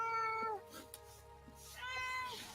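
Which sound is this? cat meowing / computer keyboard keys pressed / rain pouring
cat meowing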